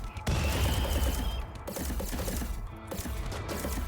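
Gunfire from the video game Rimworld Odyssey, dense overlapping shots crackling almost continuously in a loud battle mix, with an irregular rattling texture throughout.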